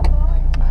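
A square-body Volkswagen Gol drives through heavy rain, its engine giving a steady low rumble with a regular pulsing beat close by, while two brief bursts of hiss cut across it.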